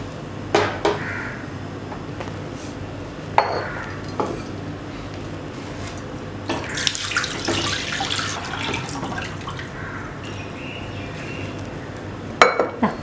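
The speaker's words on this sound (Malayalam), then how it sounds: "വെള്ളം ഒഴിച്ചിട്ടുണ്ട്." Tap water runs and splashes into a cooking pot while fish is prepared for a pepper fry, coming in a few short gushes between quiet stretches and faint clinks of utensils.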